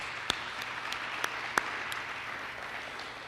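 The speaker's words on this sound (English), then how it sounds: "So let's give Dean a round of applause." Soft, sparse applause from a banquet audience honoring an award recipient, a faint steady patter with a few sharp individual claps standing out near the start.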